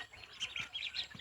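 Newly hatched duck chicks in an incubator give a run of high, thin chirps and peeps, several overlapping calls repeating in quick succession, fairly close and moderately loud with no talking.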